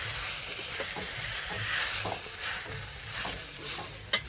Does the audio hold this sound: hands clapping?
no